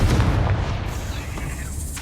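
Confringo fire-blast spell in Hogwarts Legacy, a single booming explosion with a low rumbling tail that fades over two seconds.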